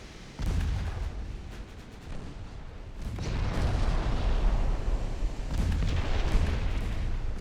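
Naval battleship gunfire and torpedo hits rumble through a battle in the Ultimate Admiral Dreadnoughts video game, deep booms and rolling blasts swelling into a sustained roar with no talking.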